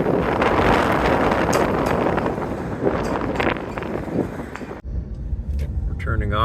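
Strong gusting wind buffeting a car driving on a Nevada highway in Carson Valley, a loud rushing roar that drops off abruptly near the end, with people talking over it.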